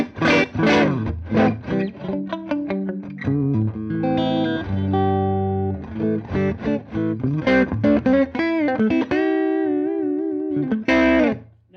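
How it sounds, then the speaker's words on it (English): Electric guitar played through a Custom Audio Mutation 5E3 amp with negative feedback engaged, a fairly clean, slightly gritty tone; a continuous run of picked notes and chords with sustained ringing, loud and alone. "Negative feedback reduces distortion and gain, but it cleans up the signal of the amp."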